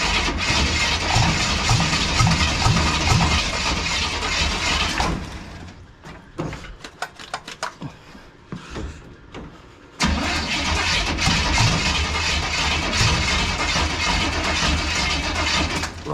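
A NASCAR V8 fitted in a bagged 1972 Mazda roars loudly and continuously up close, cuts out into sputtering, uneven firing for a few seconds, then catches again and resumes its full, heavy rumble.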